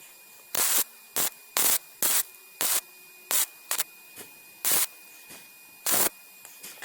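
Steel being welded on a wooden bench that scorches underneath; about ten short, loud crackling bursts of arc noise spaced irregularly, close up, with quiet gaps between and no talking.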